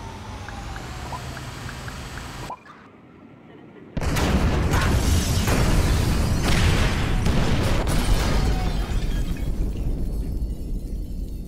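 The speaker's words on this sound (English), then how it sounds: "All right, trigger the fire bombs, Frank." Fire bombs exploding in the video game GTA V: a hum drops out, then a sudden loud blast breaks into a sustained, roaring, crackling rumble that fills the rest of the clip.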